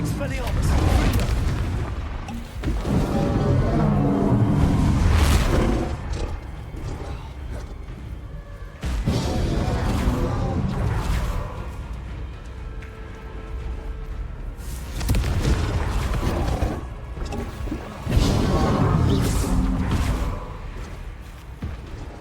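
Repeated Confringo spell explosions in the game Hogwarts Legacy, heavy booming blasts that come in waves every few seconds, mixed with mechanical creaks and other rumbling game noise.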